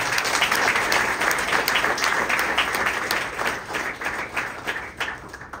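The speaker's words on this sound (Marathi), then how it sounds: "ह्या टाळ्या त्या शूर माऊली करतायत." An audience bursts into sustained, dense clapping throughout a public speech event, loud and continuous at first and then gradually thinning toward the end.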